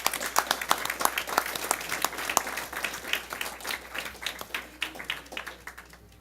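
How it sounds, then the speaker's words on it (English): Applause at a school district board meeting honoring a distinguished alumnus, a modest room of people clapping steadily for several seconds before it thins out. "Yes, please, big round of applause"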